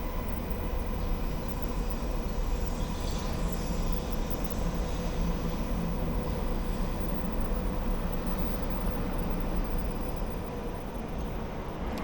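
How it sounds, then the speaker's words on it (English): A long, steady rumbling roar of a 16-car bullet train passing, constant and loud throughout with a broad whooshing hiss and no talking. "Oh, there's the bullet train right now."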